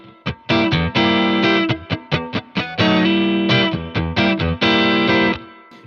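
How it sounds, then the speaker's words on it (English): Overdriven electric guitar playing choppy blues chords and short stabs with gritty distortion from an emulated Boss Blues Driver and a touch of reverb, loud and alone, through a Boss Katana 100 1x12 combo amp. "I put in a little bit of a Boss blues driver, the emulated blues driver, and a little bit of reverb"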